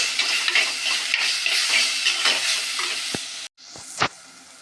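Tomato masala with green chilies sizzles in a frying pan as a spoon stirs and mixes it, a steady close crackle broken by a few sharp scrapes and a brief pause near the end.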